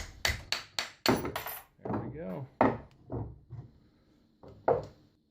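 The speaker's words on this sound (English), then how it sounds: "we're just going to smack the top of this thing to get it off of the punch now" A hammer whacks the top of a center punch used to cut a hole in a half-dollar coin for ring making, with several sharp clustered strikes up front, then someone talks over a few further knocks.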